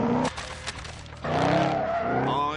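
Tyres shriek on a tuned Ford Mustang RTR Spec 3 American muscle car in a video game, with a sharp squeal, a short break, then a longer sustained skid over a roaring engine.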